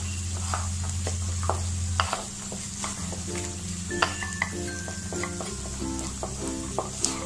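Green peas stirred and sautéing in a pan with ginger and garlic, a steady sizzle under scraping spoon strokes and clinks, with a low hum running throughout.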